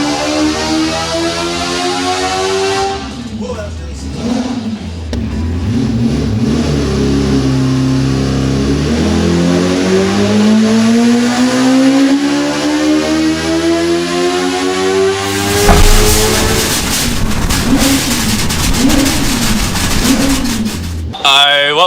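A two-rotor rotary engine revs hard under load on a test setup around 5,000 rpm, its buzzing, siren-like pitch rising and falling loudly and close throughout, with a sharp surge near the end.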